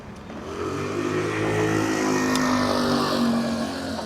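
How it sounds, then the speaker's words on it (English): A car passes on a street in Merida, Yucatan, its engine hum rising and holding steady for a few seconds before easing off, close and clear with no talking. "We'll wait for this car to pass"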